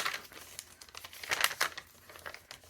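Food-colored paper for a junk journal is crinkled and handled up close in short, uneven bursts of crackling and rustling with no talking.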